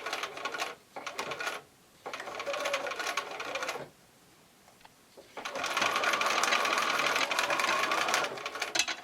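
A sewing machine stitches a quilt block of house shapes with triangle points, running in quick bursts with short pauses, then a longer steady run at close range, alone without talk.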